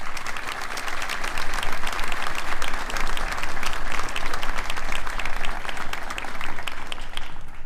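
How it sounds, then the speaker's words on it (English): An audience at a U.S. Army Forces Command change of command ceremony gives sustained, dense applause that swells and holds steady before easing off at the end. "So let's please give them a round of applause."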